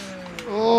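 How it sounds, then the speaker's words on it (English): Racing car engine from PMR, a custom LMDH GT3, droning steadily then rising in pitch as it revs up near the end, fairly loud with no talk. "This kind of still sounds like a car."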